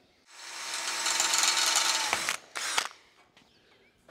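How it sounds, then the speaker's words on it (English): A power drill drives self-tapping screws into metal conduit while building a chicken tractor. A steady, loud whirring run lasts about two seconds, then a short second burst follows before it goes quiet. "I'm gonna take some self-tapping screws, and I'm just gonna screw the two conduits together"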